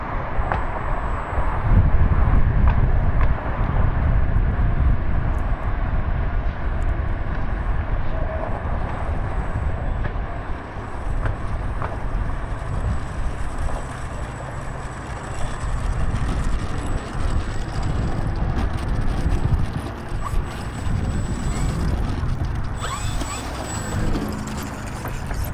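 E-flite Commander MPD 1.4m RC plane in flight outdoors, a steady broad motor drone mixed with wind rumble throughout, fairly loud and continuous.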